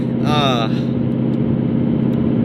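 A car engine hums steadily and close, a low continuous drone, with a voice speaking over it at the start.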